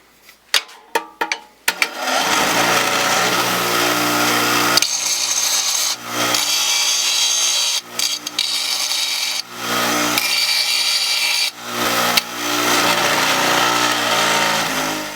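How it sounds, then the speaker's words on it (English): Power grinder flattening and smoothing a Polarstar CGS airsoft stock part, running in loud sustained bursts with brief pauses between passes, close up with no talking. "Now we're going to go ahead and flatten this up with a grinder to make sure that it is exactly smooth"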